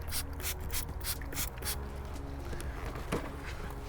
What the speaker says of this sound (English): I'm going to spray them down a little bit to the outside